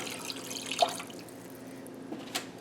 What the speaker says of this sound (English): I'm going to add to it 1 cup of water.